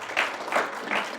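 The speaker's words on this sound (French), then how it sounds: "Merci beaucoup, applaudissements." Brief audience applause after a talk by a psychopedagogue, a short burst of clapping with three swelling pulses, fairly faint and distant, no voices over it.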